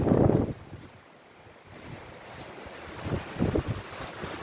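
Strong gusty wind blows outdoors ahead of a storm, with trees swaying nearby, a loud roaring buffet at first, then a lower rushing whoosh that swells again in uneven gusts against the microphone.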